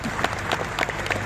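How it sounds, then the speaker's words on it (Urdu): Crowd at a religious speech in Solapur breaks into continuous clapping, dense and steady, with a faint murmur of voices mixed underneath. "اب تالی بجا سکتے ہیں"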